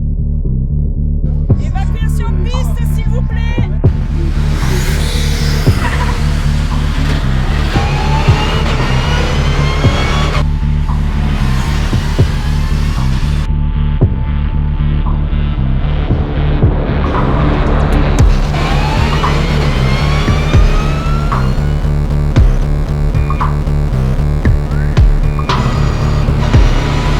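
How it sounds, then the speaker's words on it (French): Race cars launch at the start of a race at the Nogaro circuit, loud engines revving and accelerating together in a dense, continuous roar with rising and falling pitch sweeps as cars pass; an announcer's voice is heard over the engines. "Dès les premiers mètres, Alban Varrouti sur la 1 et Emmanuel Orgeval sont côte à côte"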